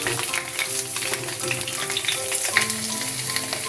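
Whole pointed gourds, peeled and slit, fry in hot oil with a steady bubbling sizzle and scattered crackles, punctuated by light scrapes and taps as the pieces are turned, close and moderately loud.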